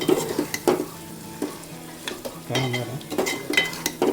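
Eggs fry in a pan with garam masala, coriander powder and plenty of green chillies, a soft sizzle beneath repeated scraping and stirring strokes of a utensil against the pan.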